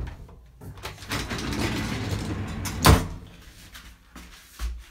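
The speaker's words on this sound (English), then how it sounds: "All right, we're gonna shut the door." A hydraulic elevator door at a private building in the Outer Banks sliding shut, with rumbling and clatter leading to one solid thud near the end, followed by a softer bump.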